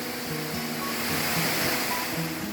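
Constant rushing water from the three-tiered Bidadari waterfall in Panggungrejo, Blitar, a steady broadband roar at moderate level with no talk.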